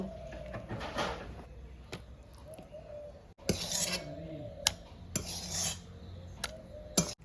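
Fried taro leaves being scraped out of a wok: quiet, intermittent rasping scrapes and a few sharp metallic clanks, close up, with short pauses between strokes.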